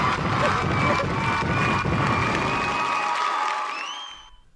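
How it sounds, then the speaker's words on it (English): An audience claps in a dense, steady burst of applause with crowd noise, holding strong for about four seconds before fading quickly to quiet. "You clap now."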